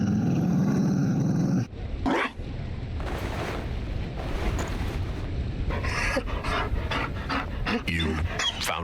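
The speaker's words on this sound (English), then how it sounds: "You found a dog?" A Mabari war dog in the Dragon Age: Inquisition Trespasser DLC panting heavily and steadily for most of the stretch, with growly breaths and game sounds mixed in.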